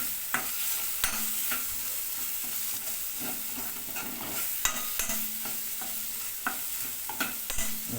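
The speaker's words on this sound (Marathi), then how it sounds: "मसाला टॅमॅटो इथं थोडासा फ्राय होऊन द्या." Tomato and spice masala fries in a pan over low flame for a Katla fish curry, giving a steady close sizzle broken by sharp scrapes and taps of a spoon stirring, with no voices.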